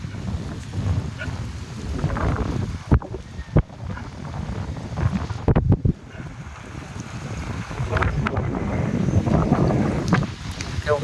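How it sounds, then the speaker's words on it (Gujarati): Wind gusts across a seaside beach, rumbling and buffeting the microphone in uneven surges, with occasional soft knocks and a voice speaking under the roar. "બીજી તમને અવાજ આવતો હોય કે ખબર નથી કે પવનનો થોડોક અવાજ આવતો હોય"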